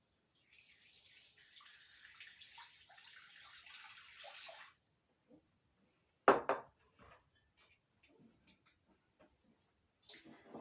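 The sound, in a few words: water being added to a flower arrangement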